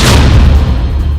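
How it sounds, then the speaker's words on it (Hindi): Explosives blow up the oil tanker Sounion at sea, a loud, sustained, deep boom that fills the whole moment with a heavy roar and no voices. "उस जहाज को विस्फोटक से उड़ाते हुए दिखाई दे रहे हैं"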